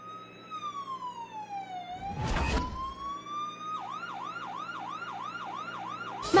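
An ambulance siren wails in a dramatic TV serial scene, first as a slow rising-and-falling tone, then as a quick repeating yelp, with a brief loud burst of noise in between.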